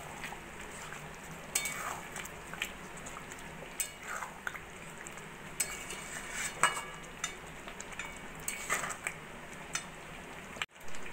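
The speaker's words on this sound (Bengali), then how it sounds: "হোমমেড গরম মশলার গুঁড়ো দিয়ে ভালো করে মিশিয়ে নেব।" Chicken korma being stirred in a pot after kewra water and homemade garam masala go in, a soft, continuous scraping and bubbling with scattered light clicks and spoon taps, faint and steady throughout with no voices.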